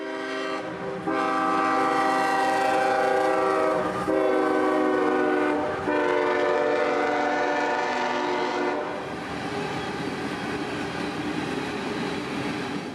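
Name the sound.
CSX empty coal train passing through Adairsville at night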